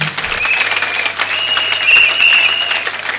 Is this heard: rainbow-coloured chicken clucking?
no